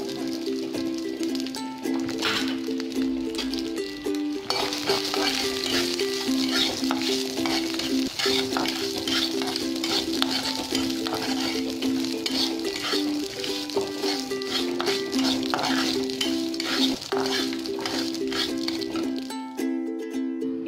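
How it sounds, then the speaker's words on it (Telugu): Peanuts, sesame seeds and chana dal frying gently on low heat, giving a continuous close sizzle with constant stirring rattles and scrapes throughout, and no talk. "పల్లీలు, నువ్వులు, అలాగే పచ్చిశనగపప్పు, దీన్ని సిమ్లో లైట్గా ఫ్రై చేసుకోవాలి"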